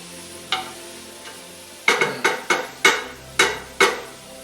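Vegetables for spaghetti sauce sautéing in a pan, a faint sizzle under a series of about eight sharp knocks and scrapes from a spoon against the pan, coming in a quick irregular run.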